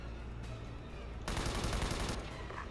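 Sustained automatic gunfire from a firefight in the tactical shooter Ghost Recon Advanced Warfighter 2, a dense burst of rapid shots that swells loudly midway and runs on over background game noise.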